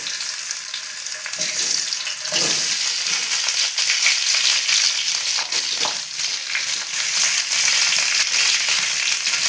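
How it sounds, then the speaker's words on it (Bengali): Potatoes frying in hot oil in a wok for a Bengali aloo dum, a loud, dense sizzle with crackling spatter and occasional stirring scrapes, continuous and close with no talking. "এবার আলুগুলো ছেড়ে দিই, একটু আলুগুলো ভেজে নেবো।"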